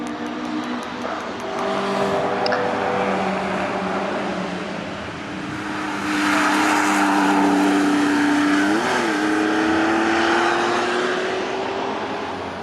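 1970s road sports race cars, including a Datsun 240Z, a Lancia and an Alfa Romeo GTV, lap Cadwell Park, a steady roar of engines with one car's rising note pulling past and swelling louder midway.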